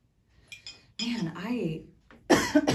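A person coughs a few times close up, with harsh rough bursts separated by short pauses and a louder cough at the end.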